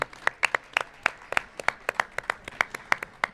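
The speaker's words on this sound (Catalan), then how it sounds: "Un fort aplaudiment!" A small group claps in quick, uneven bursts, sharp close slaps overlapping into a brief round of applause.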